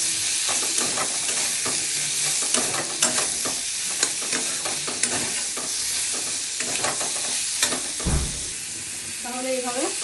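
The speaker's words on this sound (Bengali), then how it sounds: "ভেজে নিচ্ছি।" Salt, turmeric and cumin powder fry in a pan with a loud, dense, continuous sizzle, close up, broken by repeated stirring scrapes, and a brief voice enters near the end.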